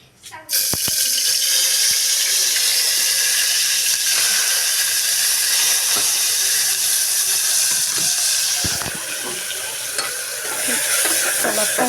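Green chillies frying in hot oil crackle and hiss loudly and continuously, with a few sharp spoon knocks against the pan, the sizzle easing slightly toward the end.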